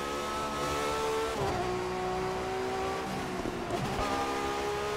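A Ferrari FXX K engine roars in the racing game The Crew 2, rising through the revs in sharp howling pulls with quick gear changes and brief dips, loud and close throughout with no talking.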